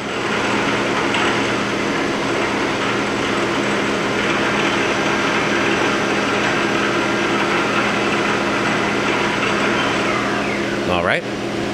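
Mori Seiki SL-15MC CNC turning center with live milling, spindle running at 1200 RPM: a steady, loud mechanical whir and hum held throughout, ending with a quick sweeping whine near the close.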